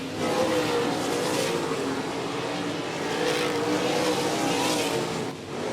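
Race cars running laps at 105 Speedway during a regular race program, a continuous loud engine roar that swells and fades as the cars pass, with no talk.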